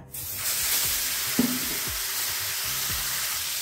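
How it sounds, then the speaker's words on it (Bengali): Marinated tandoori chicken pieces sizzle in butter in a kadai, a steady broadband frying hiss that holds for several seconds, with a few soft stirring knocks near the pan. "এবার বাটারটাকে একটু কড়াইতে ছড়িয়ে দিয়ে দেব ম্যারিনেট করা চিকেনটা"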